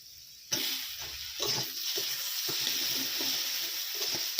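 Chopped tomatoes drop into hot oil with turmeric, cumin and coriander powder, bursting into a loud, steady sizzle that holds close and even for several seconds, with faint stirring scrapes underneath.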